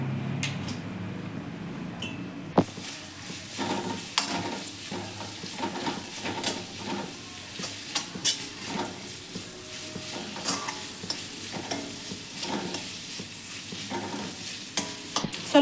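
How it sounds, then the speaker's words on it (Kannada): Onions dropped into about three spoons of hot oil in a pan, a sharp sizzle burst followed by steady frying hiss and repeated spatula scraping and tapping, close and continuous with no speech. "ಬಾಣಲಿಗೆ ಒಂದು 3 ಸ್ಪೂನಷ್ಟು ಎಣ್ಣೆ ಹಾಕಿ ಈರುಳ್ಳಿ ಹಾಕೋತಾ ಇದ್ದೀನಿ"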